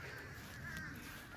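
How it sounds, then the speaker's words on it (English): Crows caw outdoors, a couple of brief calls over a constant, faint background hiss, with no speech. "these birds are really loud."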